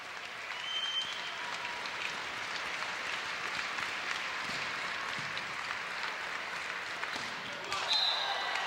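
A volleyball crowd on its feet after match point fills the gym with a steady wash of cheering and applause that rises slightly again near the end, with an announcer talking over it.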